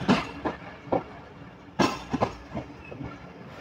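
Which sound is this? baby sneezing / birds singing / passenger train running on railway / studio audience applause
passenger train running on railway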